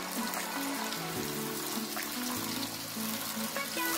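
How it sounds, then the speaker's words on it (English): Tomato-can rinse water is poured into simmering tomato puree in a pot, a steady close watery sizzle and trickle with faint background hum. "So the liquid from rinsing my tomato can or tin is what I'm pouring into"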